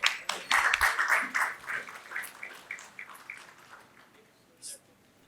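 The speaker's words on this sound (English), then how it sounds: "A huge round of applause for sir." Applause for the chairman at a B.Tech orientation ceremony, a dense burst of many hands that fades over a few seconds into scattered claps, with a brief faint voice near the end.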